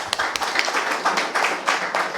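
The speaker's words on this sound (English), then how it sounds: "please clap for" A small audience claps after a Roland TD-07 electronic drum kit demo in a music shop, with a short burst of scattered, uneven hand claps at moderate volume.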